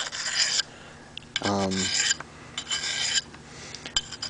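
A bushcraft knife blade is drawn across a sharpening stone in short, close rasping strokes, one side then the other, separated by brief pauses and light scrapes.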